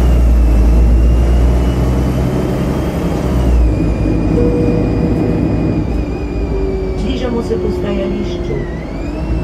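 A MAN NG312 city bus engine in Ljubljana drones loudly at close range with an abnormal steady wheezing whine that shifts in pitch, and a voice talks over it.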